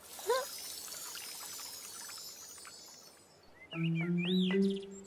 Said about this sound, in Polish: Potem Po podlała kapelusz Dipsiego.